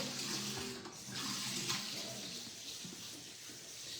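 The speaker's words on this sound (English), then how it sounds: "but I add some water to that" Water runs from a tap into leftover seasoning in a kitchen, a steady rushing flow that lasts throughout at moderate loudness, with no talking over it.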